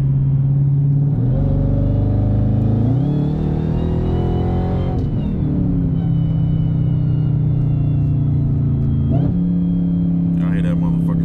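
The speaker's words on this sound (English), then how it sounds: "Y'all hear that motherfucker downshift" Supercharged Chrysler Redeye V8 car droning loudly nearby as the engine pitch steps up, drops sharply, then settles into a steady heavy rumble, with a clunk and faint voices near the end.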